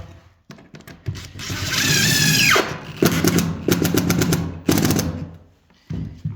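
A cordless impact driver sinks screws fully home into floorboards laid over an old creaky parquet, giving a loud sustained whirring rattle that rises in pitch, then several shorter bursts of hammering clatter.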